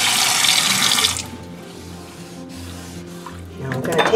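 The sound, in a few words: rinsing a kitchen sink with running tap water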